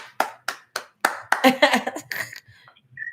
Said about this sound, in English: Let the applause go.